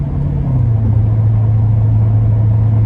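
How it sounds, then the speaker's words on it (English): A deep, loud exhaust rumble from an 850 hp Procharger-supercharged C7 Corvette Z51 drones steadily, its pitch dipping slightly early on and then holding a throaty idle. "you just want to just make freaking exhaust sounds that can be heard 10 miles away"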